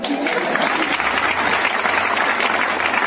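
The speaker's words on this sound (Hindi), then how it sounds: "अग्रवाल सर, प्रियरंजन सर के लिए भी जोरदार तालियां" Loud, sustained applause from a crowd at a motivational meeting, dense steady clapping that fills the room without pause.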